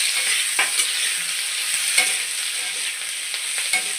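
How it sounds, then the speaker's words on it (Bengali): Potatoes and pointed gourd fry in a pan with a steady, close sizzle, broken by a few distinct scraping stirs at intervals; no voices. "আলুগুলো পটলের সাথে ভালো করে ভাজবো"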